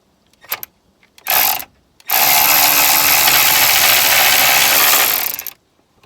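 A ratchet turns an intake manifold bolt on an R56 Mini Cooper S with the N14 engine, giving a few short clicks and then a long, loud, steady run of dense ratcheting that stops abruptly, close by with no talk.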